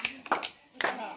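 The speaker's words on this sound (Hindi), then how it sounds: "चलो गाइस ताली बजाना अच्छे से" Several people clap together for a birthday cake cutting at a friends' surprise party, two short bursts of applause close by, mixed with talking voices.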